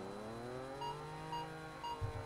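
Nitrous purge from a car in a racing video game, a brief hiss layered over a steady engine drone with rising revs and a few faint electronic beeps.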